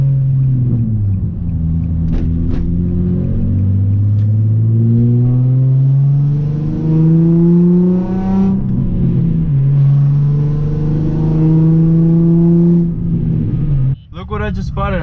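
A car engine at a car meet revs up and down repeatedly with a deep, loud exhaust rumble, rising in pitch with each pull before a sharp clunk near the end.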